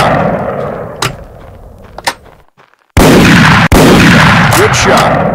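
Loud shotgun blasts in the duck-hunting game Bird Hunter 2003 Waterfowl, a couple of sharp cracks followed by a sudden wall of dense, roaring game sound.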